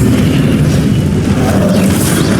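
A Confringo spell explosion in the video game Hogwarts Legacy, a dense continuous boom with heavy low rumble sustained loudly throughout, no voices present.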